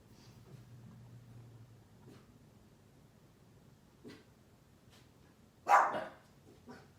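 Small dogs barking indoors in a home, one short sharp bark standing out loud and close among faint scattered yips, with no talk over it.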